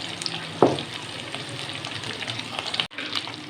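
Cubed tomatoes hit hot oil in a pan with capsicum and carrot, giving a sharp burst of sizzle that settles into steady frying, with a brief dropout near the end.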